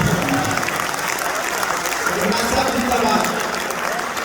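A large audience at an Urdu poetry mushaira in Muscat claps steadily and continuously, a dense wash of applause that holds at an even level throughout.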